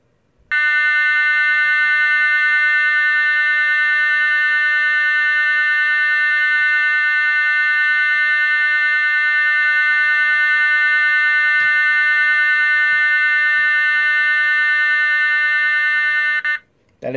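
An E2S A100DC24R alarm sounder emits a steady, unbroken continuous tone, loud and close, holding level for about sixteen seconds before cutting off abruptly.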